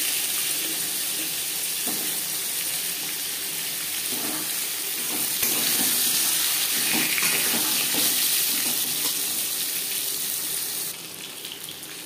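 Long-cut peeled potatoes sizzle in hot oil with panch phoron, a steady, bright hiss close by, softening slightly near the end.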